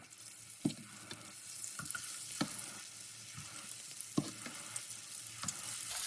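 Banana fritters frying in hot oil, a steady close sizzle with occasional sharper pops and crackles throughout, no voices.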